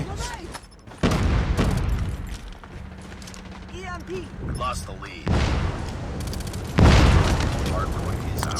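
Booming grenade explosions and bursts of gunfire in the Call of Duty Mobile shooter, several loud blasts coming in waves while a player talks excitedly over them.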